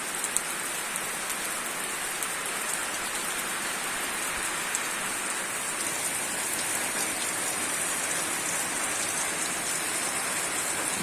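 Heavy rain pours down steadily, a dense even hiss of drops hitting surfaces, constant throughout without any voices.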